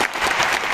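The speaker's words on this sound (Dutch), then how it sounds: "Ja, applaus" Brief burst of audience applause at a speech event, dense and even clapping filling the whole moment.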